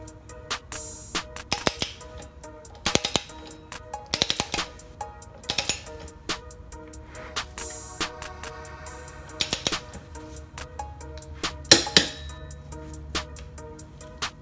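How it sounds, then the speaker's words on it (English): A wrench torques down a sprocket nut on a motorcycle during a chain and sprocket install, giving sparse, sharp metallic clicks and clanks at irregular intervals, fairly faint and with no voices. "I'm going to torque this down."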